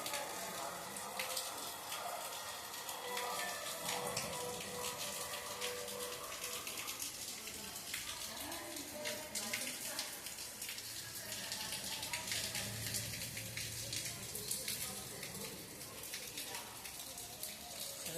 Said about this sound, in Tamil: நல்லா மழை பெஞ்சிருக்கு மதுரையில்